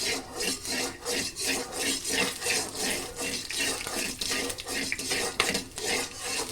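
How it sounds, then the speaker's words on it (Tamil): Peanuts and chillies are stirred in a pan over a low flame, making a continuous rhythmic scraping and rasping with repeated strokes of the spoon against the metal, close and fairly soft. "நல்லா மிக்ஸ் பண்ணணும் லோ ஃப்ளேமில் வச்சுட்டு"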